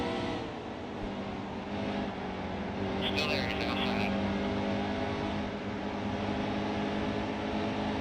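Race car engines in NASCAR Heat 2 at Darlington, a continuous droning multi-car roar holding steady at speed, loud throughout.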